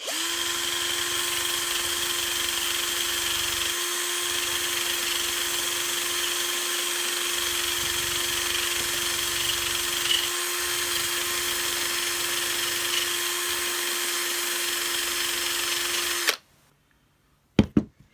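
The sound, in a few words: drill removing rust from Hoover vacuum part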